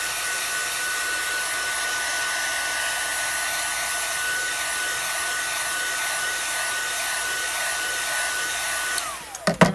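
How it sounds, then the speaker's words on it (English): A heat tool blows hot air steadily to melt embossing powder on a stamped craft piece, a loud, continuous whooshing hum that breaks off briefly at the very end. No one speaks. "And no, my hand is not touching the heat tool."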